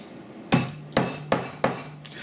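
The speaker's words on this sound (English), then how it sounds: "I have to take a hammer and basically beat it in there" Four sharp, ringing hammer blows drive a pillar piece into a hole in a tabletop terrain build, spaced about half a second apart, close and distinct, with no talk.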